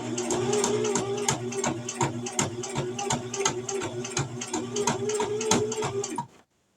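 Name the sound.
sewing machine back-stitching fabric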